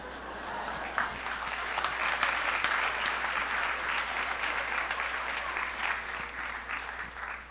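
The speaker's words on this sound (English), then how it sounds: "One more round of applause for this fantastic speaker, everybody." A crowd applauds a speaker at a Fuckup Nights anniversary event in Toronto, sustained even clapping that swells and holds for several seconds, with no one speaking over it.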